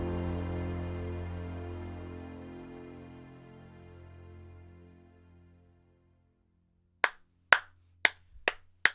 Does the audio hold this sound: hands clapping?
yes